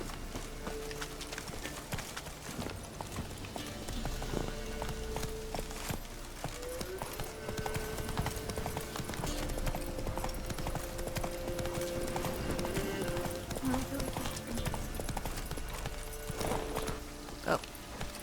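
Horse galloping in The Witcher 3, quick rhythmic hoof clip-clop running steadily throughout at moderate volume, with a player's voice talking over it and game sounds in the background.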